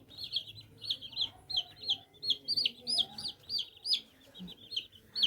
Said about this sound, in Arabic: هو ما شاء الله كتكوت نشيط وحلو